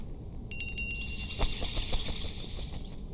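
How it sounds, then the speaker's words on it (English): A small bell found in the Secrets of Salem 2 hidden-object game rings with a bright metallic chime. The rings come in a quick cluster at first, then ring on in softer, evenly spaced dings over a low background hum. "I found a small bell."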